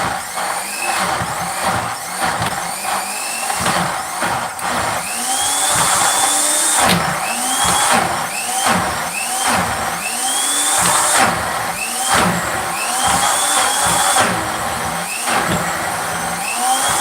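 A kitchen blender whirs through soaked beans for akara batter, a steady loud motor drone with repeated surging pulses and rattles as the jar is run again.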